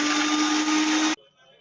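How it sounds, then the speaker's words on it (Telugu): A mixer grinder blends cold coffee with ice cubes, a loud, steady whirring roar for about a second before it cuts off abruptly into near silence. "ఇలా మిక్సీ వేసుకొని ఇలా బాగా అవ్వాలన్నమాట"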